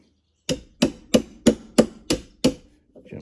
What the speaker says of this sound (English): gently tap till it goes on.